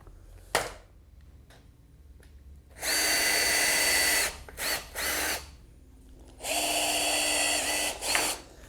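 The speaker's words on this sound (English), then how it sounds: "Now what we're doing here is drilling pilot holes, and they're countersunk." A power drill whines in two longer bursts and a few short ones, drilling countersunk pilot holes in fiberglass, separated by quiet pauses, close and fairly loud with no talking.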